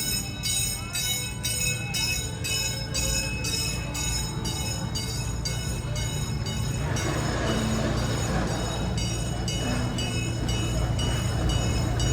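The Busch Gardens Williamsburg amusement park railway train rolls along with a steady rumble and a repeating bell-like clang, then quietens as it slows and comes to a stop.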